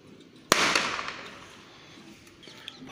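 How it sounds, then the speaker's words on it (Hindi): A Diwali firecracker bursts below on a cold morning, one sharp bang followed by a ringing, echoing tail that fades over about a second, with a faint pop later. "पटाखे फूट रहे नीचे"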